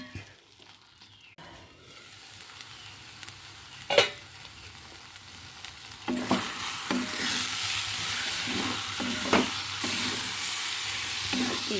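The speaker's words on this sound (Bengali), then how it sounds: "নাড়তে হবে। খুব অল্প আঁচে এটা রান্না করতে হবে।" Food cooking on very low heat in a pan, stirred repeatedly with a spoon, gives soft scraping strokes over a gentle sizzle that grows fuller partway through, with occasional sharper knocks.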